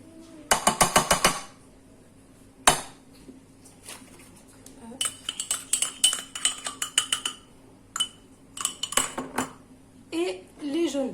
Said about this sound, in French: et les jaunes d'œufs. On va mélanger d'abord le tout.